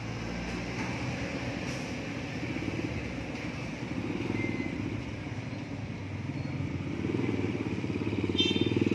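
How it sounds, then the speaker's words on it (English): A Hummer rolls past at a market street in San Marcelino, a steady low engine rumble that swells toward the end as it comes nearer, with faint background street noise and no talking. "Wow. I guess it's a Hummer."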